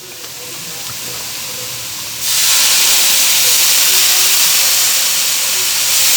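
Worcestershire sauce hits a hot pan of beef pot pie filling, and a loud, steady sizzle and hiss bursts up suddenly and keeps going.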